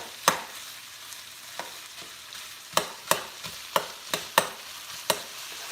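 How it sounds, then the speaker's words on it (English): A utensil stirs jalapeno peppers and tomatoes in a frying pan, with sharp scraping clacks against the pan at an irregular rhythm over a faint sizzle, no voices. "Just put that right in and stir it even more"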